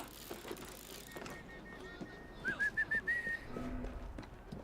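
A short rising whistled phrase of several quick notes cuts through busy street ambience and low rumble in the Assassin's Creed Syndicate video game, moderately loud against the background noise.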